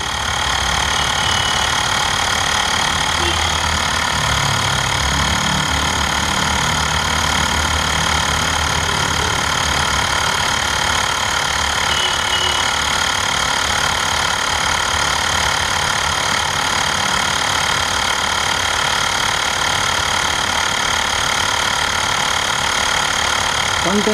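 Xiaomi portable tyre inflator pump running steadily for a long stretch, a continuous buzzing motor hum with a high whining drone, with people talking over it.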